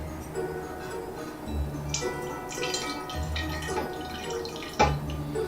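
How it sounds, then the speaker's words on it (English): Melted candle wax poured from a melting pot into a metal pitcher at a home candle-making setup, giving soft liquid dripping and trickling sounds with a few small taps, moderately close and without talk. "So I'm going to pour just a little bit of wax into this pitcher."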